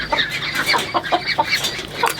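Chickens clucking in short, repeated bursts, several birds close by and fairly loud, with no talking.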